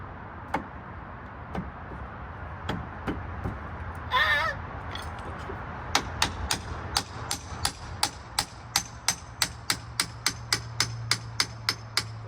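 Metal hammer tapping brake caliper pins while installing a PowerStop Z26 Street Warrior brake kit on a Mustang GT: a few scattered taps, then a steady run of sharp, close, evenly spaced knocks, with a brief squeak between.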